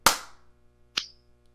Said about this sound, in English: Actually, clap on three.